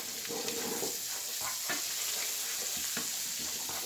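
Butter melts and sizzles in a pan, a steady close crackle with scattered small pops, heard alone.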